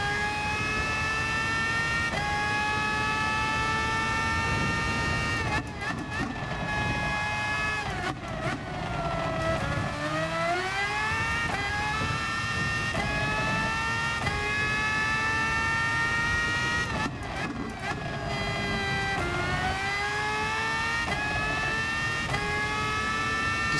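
A race car engine in Gran Turismo Sport roars through a fast lap of the Sardegna road circuit, its loud, steady drone rising and dipping in pitch with gear changes and sharp lifts for braking, continuous and close throughout.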